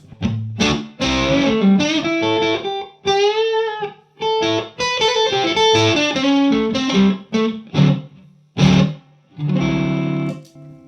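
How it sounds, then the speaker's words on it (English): An electric guitar plays chords and short bends through a Chase Bliss Automatone reverb pedal on its classic reverb setting, notes ringing out with lingering tails between phrases, loud and up close. "So if we go back to the classic reverb."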